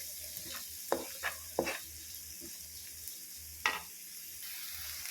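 Ingredients being sautéed and stirred in a pan for white sauce pasta with crushed black pepper: a soft steady sizzle under a few sharp spoon scrapes and clinks, close and fairly quiet, with no talking.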